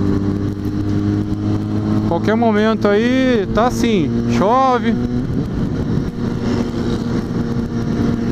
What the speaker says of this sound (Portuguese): Perigoso zoar a moto.